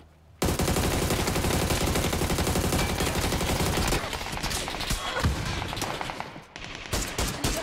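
Dense automatic gunfire in the battle royale game PUBG on the Erangel map, a continuous loud rattling burst that breaks into scattered shots and a few more bursts toward the end.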